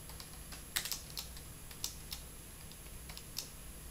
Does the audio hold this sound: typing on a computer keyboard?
yes